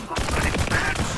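Gunfire in the shooter Borderlands 3, a loud, dense burst of rapid shots crackling close by for about a second.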